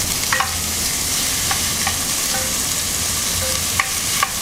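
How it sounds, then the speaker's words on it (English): Pound of 80/20 ground beef browning in a pan, a steady crackling sizzle with occasional stirring scrapes and small pops throughout, close and fairly loud with no talking. "You're gonna brown this for about 5 minutes so that beef is really browned."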